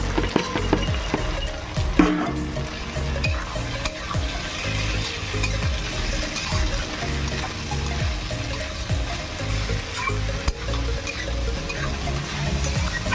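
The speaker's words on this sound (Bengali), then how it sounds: "টমেটোটা হলে গেছে, এবার আমি ভেন্ডিগুলো দিয়ে দেবো।" Okra and tomatoes fry in a pan with a continuous, crackling sizzle, broken by occasional clatter and scraping from stirring, with no voices.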